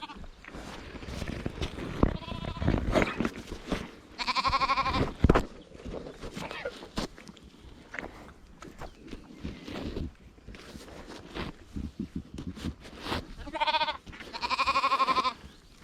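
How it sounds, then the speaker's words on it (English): Several loud sheep bleats ring out in separate bursts amid rustling, shuffling and handling noises close by. "Old sheep right here making very happy noises now."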